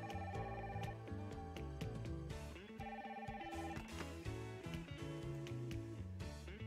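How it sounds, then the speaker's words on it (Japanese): An incoming call rings as a melodic ringtone in the horse-racing management game Winning Post 9 2021, a fairly quiet repeating electronic tune of chiming notes that plays steadily without talking. "電話かかってきた。"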